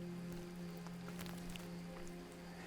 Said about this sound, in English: we've made it to the mountaintop, and it's rainy up here